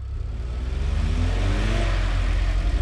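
A Renault Duster stuck in mud on a fishing outing revs hard, its engine holding a loud, steady, droning growl close by with slight wavering pulses as the wheels strain.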